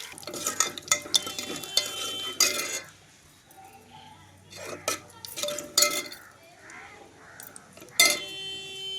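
Onions and green chillies hit hot oil already holding cumin seeds and curry leaves, giving bursts of sizzling and clinks of a stirring spoon against the pan, alternating with quieter stretches of soft frying.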